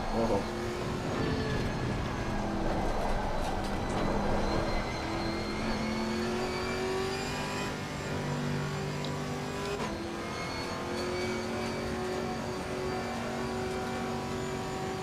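A GT4 race car in a racing video game laps the Nordschleife, its engine droning and climbing in pitch through the gears, with a steady whine over rumble. People talk over it at times.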